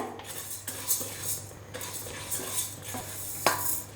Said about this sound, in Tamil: இதை லேசாக நிறம் மாறுற அளவுக்கு வறுத்தா போதும்.